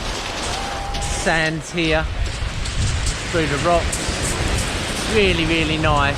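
Rain falls steadily at Alum Bay on the Isle of Wight as a constant broadband hiss, with a few spoken remarks over it.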